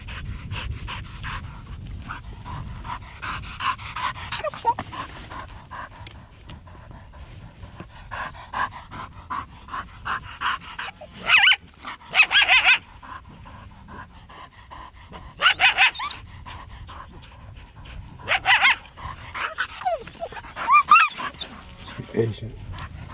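Hunting dogs pant softly and rhythmically nearby in the field during a decoy goose hunt, with occasional whimpers and yips, under low, quiet talk among hunters.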